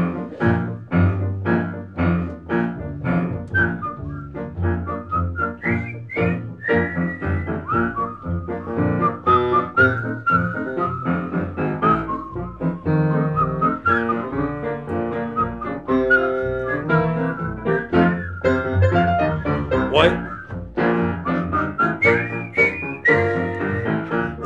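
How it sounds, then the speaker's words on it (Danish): Several people whistle a melody in B-flat major along with a steady, loud music accompaniment at a gymnastics association session, the whistled tune running continuously over the instruments throughout. "der fløjte vi til, og der er alle velkommen til at fløjte med"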